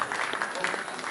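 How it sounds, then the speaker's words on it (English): Applause from the audience at a swimming championship opening ceremony at a city pool, a broad steady patter of clapping that lasts the whole short moment at moderate level. "Round of applause."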